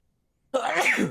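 One big, loud sneeze from a person bursts out close to the microphone after a moment of silence.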